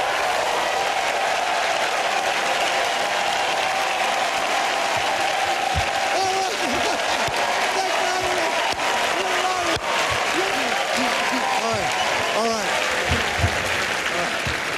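A comedy club audience applauds and cheers a stand-up comedian coming to the stage, steady loud clapping with scattered whoops sustained throughout, and a voice talks briefly over it.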